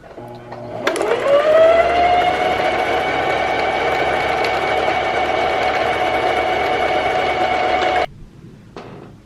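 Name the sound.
sewing machine winding a bobbin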